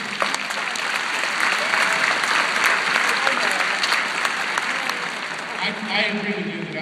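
Loud, sustained crowd applause in a large arena during a citizenship ceremony at TD Garden, a dense continuous wash of clapping that fades slightly toward the end with faint voices mixed in.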